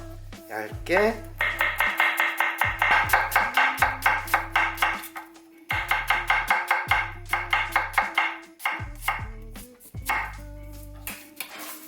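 A knife taps rapidly and rhythmically on a cutting board in bursts, thinly slicing an onion, with a person talking in Korean over much of it.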